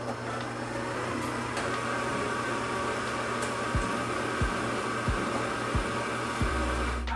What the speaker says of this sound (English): I always like to get my mixer started slow and then bring the speed up